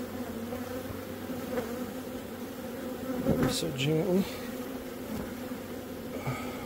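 Bees scooped out of a beehive inside a house make a steady, dense buzzing swarm close by, swelling briefly in the middle as they are disturbed, while a person speaks softly over it.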